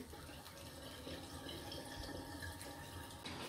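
Coolant liquid pours steadily into the tank of a CNC milling machine inside a newly built enclosure, a continuous close gushing and splashing with no pauses.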